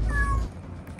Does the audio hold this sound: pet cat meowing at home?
yes